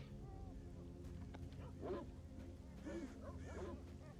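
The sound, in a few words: dog eating in the video game S.T.A.L.K.E.R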